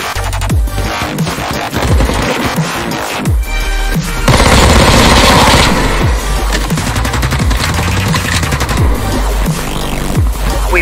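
Heavy gunfire in the video game Warface during a plant-the-bomb PvP match: dense, loud automatic bursts and single shots go on almost without a break, with booming impacts mixed in.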